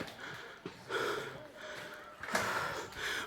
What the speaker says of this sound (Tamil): மூச்சு வாங்குது, யாரும் தப்பாக நினச்சிக்காதீங்க.